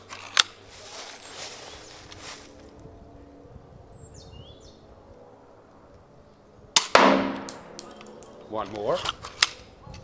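An aluminum prototype gun fires at a police riot shield: a single sharp crack early, quiet handling, then a louder shot and impact, followed by a few rattling clicks, with a brief spoken word.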